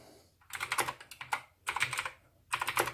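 Rapid bursts of typing on a mechanical gaming keyboard, clustered clacking keystrokes in three quick flurries separated by short pauses, close and clear with no talk.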